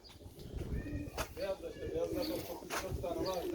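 Someone's pet pigeons in a loft, soft cooing and rustling in the background with occasional wing flutters and clicks, heard faintly under people talking.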